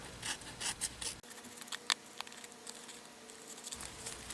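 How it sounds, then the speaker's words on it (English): Scissors cutting card stock down to size for a Christmas snowflake card, a few quick close snips and a soft scraping rub, faint and alone. "And just cut it down."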